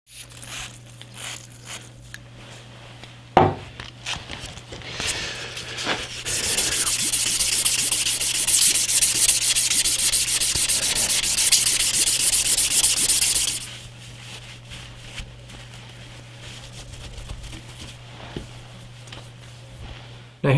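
A Mosin Nagant rifle is hand sanded with 400 grit sandpaper, a steady, close rasping rub lasting about seven seconds over a low electrical hum, framed by quieter handling clicks before and after.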